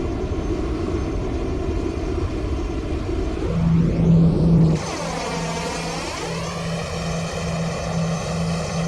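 A Boeing 737-800 taxies in the Roblox game Flightline, its steady jet engine whine holding a constant droning tone that sweeps and shifts as thrust changes partway through, with no voices.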